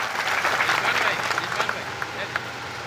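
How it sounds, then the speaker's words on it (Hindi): A crowd at a Samajwadi Party political rally claps loudly, a thick burst of applause that swells and then thins into scattered claps. "एक बार जोरदार तालियां अपने धैर्य के लिए, अपने साहस के लिए बजा दीजिए"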